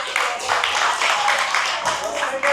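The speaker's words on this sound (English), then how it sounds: "Please give one more round of applause for yourselves." An audience claps and applauds, a dense steady patter of many hands that carries from start to finish, with a voice speaking faintly beneath it.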